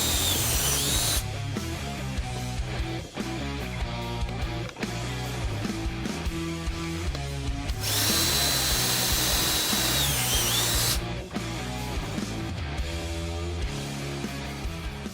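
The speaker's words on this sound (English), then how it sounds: "we're going to drill a 1/4-inch hole right here in order to fish these down through there" A power drill boring a 1/4-inch hole through the center rib of a plastic fan shroud during an electric fan install on a 1997-2007 Ford truck, a loud, steady whine that runs continuously and surges brighter partway through.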